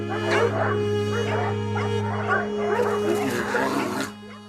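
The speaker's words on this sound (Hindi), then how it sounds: "कचरे के कारण आवारा कुत्तों की संख्या में भी बढ़ोतरी हुई है। ये कुत्ते भालुओं पर हमला करते हैं या उन्हें काटते हैं।" Stray dogs in mountainous Kargil bark and whimper in a rapid, overlapping flurry close by, against a steady low background hum.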